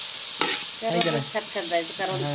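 Chutney made from raw wild karvand berries is stirred and fried in a pan, with a steady close sizzle and scraping strokes running continuously through the short stretch.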